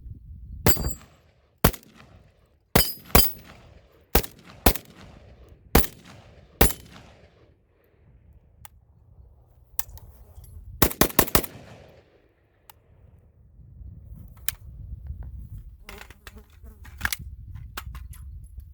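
A Zastava ZPAP M70 AK-47 rifle firing hollow point rounds outdoors, with about a dozen loud, sharp shots. They come singly at first and then in a quick cluster, with rustling and movement between them.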